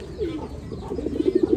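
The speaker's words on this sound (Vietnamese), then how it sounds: "Những cặp bồ câu này là bồ câu sinh sản mọi người nhé, đã sinh sản đã đẻ rồi đấy." Breeding pigeons that have already laid eggs coo nearby in low, throaty notes, building into a quick rhythmic series of five or six pulses toward the end.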